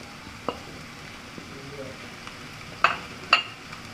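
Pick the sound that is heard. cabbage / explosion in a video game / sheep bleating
cabbage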